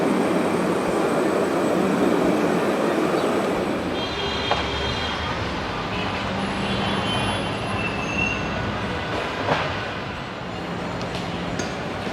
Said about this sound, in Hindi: पीछे जो है वो यहाँ की मेट्रो भी आ गई